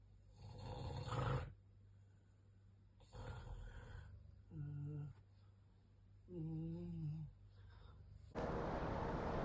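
A recording of a man snoring in a hostel dorm plays back faintly, with several rough, rasping snores in an uneven rhythm, some with a throaty, tonal rattle, before a burst of loud noise cuts in.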